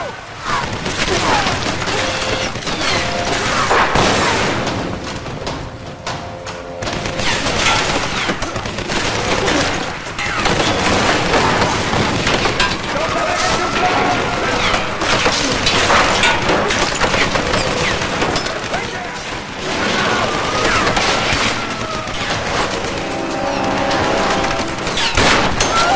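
Heavy gunfire fills a Tomb Raider 2013 video game battle, with sustained overlapping volleys of rifle and automatic fire and booming impacts running almost continuously throughout.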